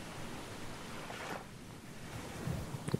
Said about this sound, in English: Waves seem a little bit more hectic than last time.